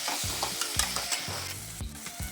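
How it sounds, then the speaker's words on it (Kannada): Tomato fried in a pan for dry roast chicken, a steady sizzle broken by several rhythmic scraping strokes of a spoon stirring the pieces, close and fairly loud with no talking. "ಟೊಮೆಟೊ ಹಾಕಿ ಇದನ್ನು ಸ್ವಲ್ಪನೇ ಫ್ರೈ ಮಾಡಿಕೊಳ್ಳುವ."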